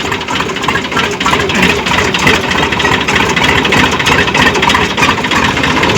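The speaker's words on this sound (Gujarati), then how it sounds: "અહીં ટ્રેક્ટર છે." A tractor engine idles on a farm road, a loud, close, steady diesel chugging rumble that holds a constant rhythm throughout.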